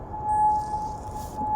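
An air raid siren in Kuwait, sounded to warn of incoming rockets or drones, holds a steady wailing tone at a distance, carried over outdoor background noise.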